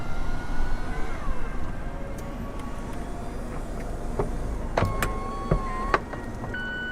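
The power retractable hardtop of a 2020 Mazda Miata RF MX-5 closes with a steady electric motor whine and shifting mechanical tones, ending in a few clicks and clunks, heard close over a low cabin hum.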